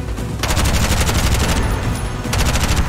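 Rapid automatic gunfire in Bright Memory: Infinite, loud and close, with fast rhythmic bursts running through the whole stretch.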